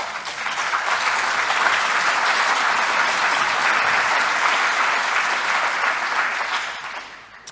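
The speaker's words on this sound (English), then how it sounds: "all of the agency staff involved in that deserve a really big round of applause at this moment in time" A large audience at a workplace health and safety summit's closing session applauds steadily, a dense, sustained wash of clapping that holds evenly for several seconds before fading away near the end.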